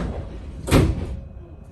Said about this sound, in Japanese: 発車時刻となり扉が閉まります。